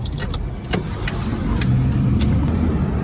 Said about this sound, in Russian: Видите, как пропускает машина?